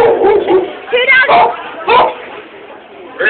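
A voice imitates a big dog barking, giving several loud, close, rough woofs in quick bursts with short pauses between.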